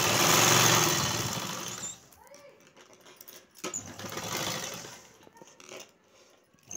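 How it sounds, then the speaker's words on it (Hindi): A sewing machine stitches a seam on a kurti, whirring steadily in a loud run at first, then stopping and starting again in shorter, quieter bursts. "अब इस तरीके से पूरी कुर्ती पे सिलाई लगा लेंगे।"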